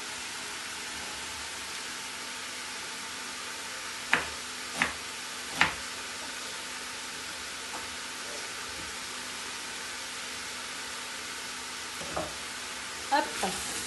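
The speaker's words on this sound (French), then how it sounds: "je laisse mijoter tout ça pour que tout se mélange bien" A pot of vegetable soup simmers with a steady, soft bubbling hiss, with a few sharp clinks and taps standing out now and then.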